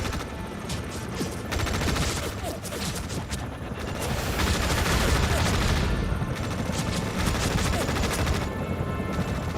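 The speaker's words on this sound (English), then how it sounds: "Opening fire." Sustained automatic gunfire as units open fire in Tom Clancy's EndWar, a dense rattling barrage with mechanical clatter, steady and loud, swelling slightly midway and continuing without a break.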